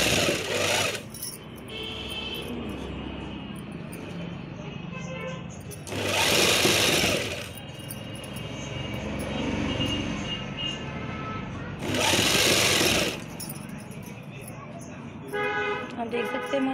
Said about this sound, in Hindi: दोनों का सेम दबाव बनाते हुए एक फुटर की सिलाई लगाएंगे